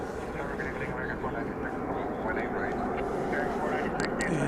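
A ten-year-old British Airways Airbus A380 on the move at DFW Airport at night gives a steady, broad engine rumble throughout, with people talking over it.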